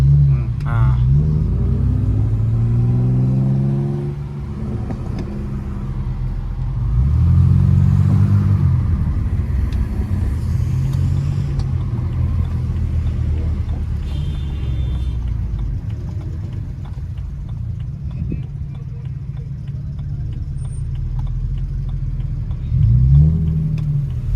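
A BMW engine with aftermarket headers rumbles loudly throughout at a car culture breakfast meet, rising in a few revs and settling back, with people talking close by over the engine.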